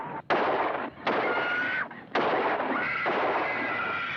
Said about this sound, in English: They're just shooting in the air